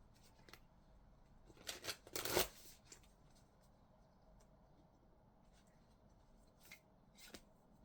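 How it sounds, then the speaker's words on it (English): A Moonology oracle card deck being shuffled, soft papery riffles and rubs with a louder burst of shuffling in the middle and quieter card handling before and after, close up with no talk. "let me get some cards from the Moonology deck"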